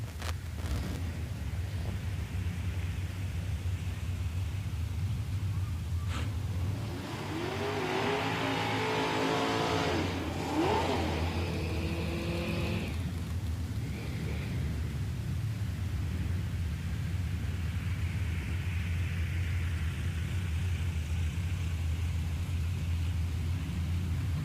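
Drag cars launching at a Woodburn, Oregon strip, a Plymouth Duster and a 1967 Camaro, a distant steady rumble building into a roaring surge that peaks midway, then fades back to a low background drone.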